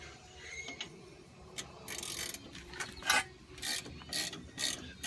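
A ratchet loosens rear brake caliper bolts on a 2004 Chevy Impala, with close, sharp bursts of rapid pawl clicking repeating in short strokes between brief pauses.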